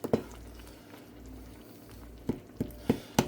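Cranberries simmering in a pot with maple syrup, a soft steady bubbling with several sharper pops and splutters near the end, close and moderately quiet with no talking.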